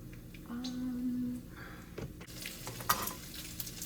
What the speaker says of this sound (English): I'm just making bacon right now.